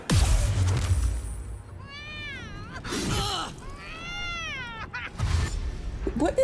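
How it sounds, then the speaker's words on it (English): A cat-like creature in the fantasy video game Baldur's Gate 3 lets out two long, wavering meows in succession, clear and fairly loud, separated by bursts of game noise. "Is there another one of those cat thingies?"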